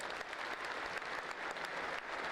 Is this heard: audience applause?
yes